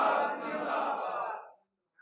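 A large gathering at a religious talk shouts back a slogan in unison, a loud massed chant that swells and then fades out into silence after about a second and a half.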